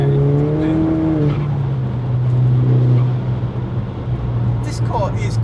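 Turbocharged Audi S3 8P at Stage 2+ tune, about 369 bhp, heard from inside as a steady low engine drone under acceleration, loud and continuous beneath people talking in the cabin.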